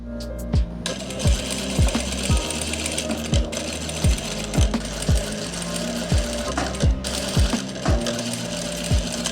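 A sewing machine runs steadily along a kurti shoulder seam, giving a loud, close mechanical hum broken by a regular series of sharp knocking thumps, with no talking.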